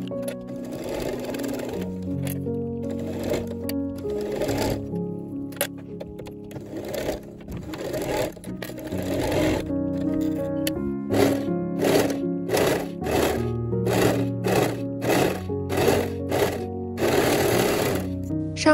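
A sewing machine stitches the side seams of a dress, joining front and back panels right sides together, its needle motor running in bursts of loud rapid chatter that speed up and stop, close and with no voices.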